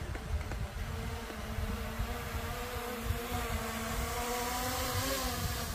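A steady, high buzzing whine of a drone hovering nearby on a mountain in Deogyusan National Park, continuous with a slight shifting pitch over wind noise.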